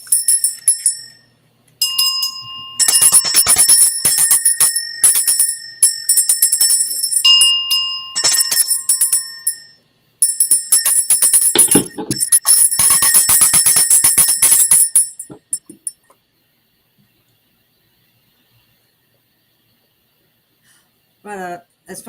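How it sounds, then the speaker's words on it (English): A small bell rung by hand to close a gathering, sounding in repeated bright bursts of ringing over about fifteen seconds, loud and close, then falling to near silence. "let's go ahead and ring the bell"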